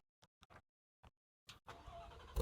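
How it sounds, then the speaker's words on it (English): A 2022 Shelby GT500 started remotely and heard from outside: a few faint clicks and cranking taps, then the engine catches with a rising rumble that swells loudly at the very end. "Let's remote start this thing. Hear a little startup from the outside."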